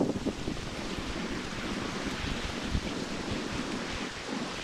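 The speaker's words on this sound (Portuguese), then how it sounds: "que rajadas de vento" Strong wind gusts roar continuously outdoors at a forest swamp lake, a broad steady rushing noise buffeting the microphone with no voices.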